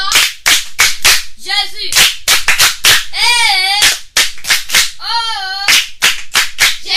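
A children's audience at a Christian child-development centre broadcast claps in brisk, sharp bursts, loud and close, alternating with a child's chanted speech between rounds.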